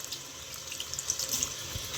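Tap water running steadily into a sink for cleansing crystals, a continuous hissing stream with light splashes and drips throughout.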